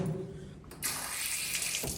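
Water runs from a tap in a pig barn, a steady splashing stream that quiets briefly and then gushes again more strongly, close by and with no talk.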